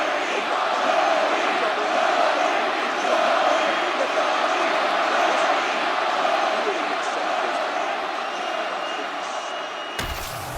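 An arena crowd in the video game EA Sports UFC 6 roars steadily in a dense, continuous wash of cheering and noise, loud and sustained, ending in an abrupt cut.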